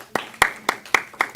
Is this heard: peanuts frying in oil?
no